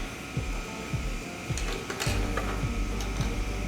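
A sewing machine stitches down a seam on a denim jacket, its motor whirring steadily with a rhythmic mechanical rattle. Brief pauses and restarts break the run, all close up with no voices.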